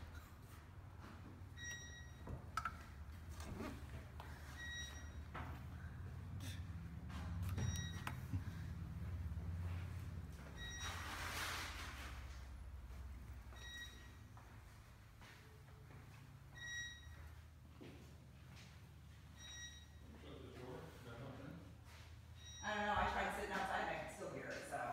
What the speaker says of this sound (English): There's a beeping.